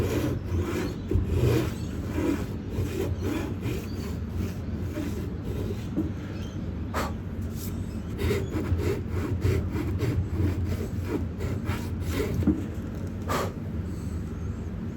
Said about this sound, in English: So I just need to get in there with a fret saw.